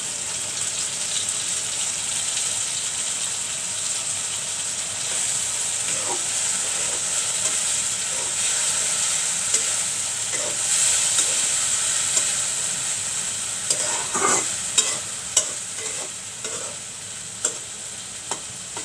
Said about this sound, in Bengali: একটু ভালো করে কষিয়ে নিচ্ছি শুটকিটা।